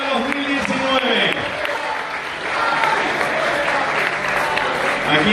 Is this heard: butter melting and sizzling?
no